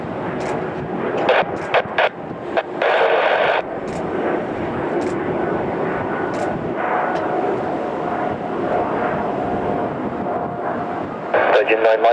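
Airliner taking off from runway 27 left at Heathrow, a loud, sustained, broad jet roar that swells and rumbles throughout, with radio voices and talk heard over it.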